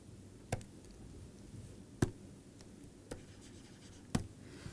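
Chalk or marker strokes on a board tap out a few sharp, isolated clicks spaced over several seconds, faint against a quiet room with no talking.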